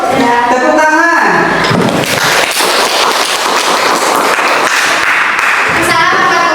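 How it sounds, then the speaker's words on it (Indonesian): A classroom group claps after a presentation in an academic coaching session, a noisy burst of clapping in the middle with voices briefly heard before and after it. "Tepuk tangan."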